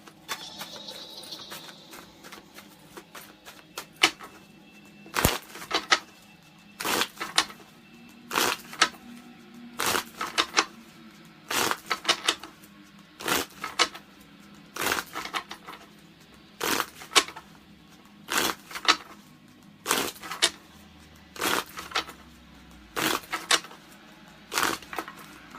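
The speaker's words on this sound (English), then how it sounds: "In the midst of shuffling the deck" Deck of tarot cards being shuffled on a table, a long run of sharp riffling bursts repeating in quick, uneven rhythm, close and fairly loud, with no talking.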